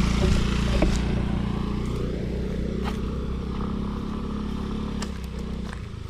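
A large motorcycle engine idles and runs steadily nearby, a low throbbing drone with some light clatter, no talking.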